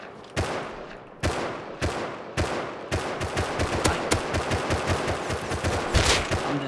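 Gunfire in the survival video game Rust: a few spaced single shots give way to rapid automatic bursts, loud and close, with dense repeated cracks continuing to the end.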